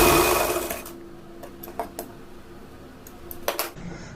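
A simple sewing machine stitching a blouse hem: a brief whirring run at the start, then a few short, separate mechanical clicks and taps close by in a quiet room.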